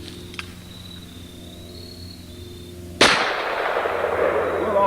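A single loud gunshot firing a 255 grain lead bullet at a target 15 yards away at an outdoor range, a sharp crack followed by a lingering ringing tail after a quiet lead-in.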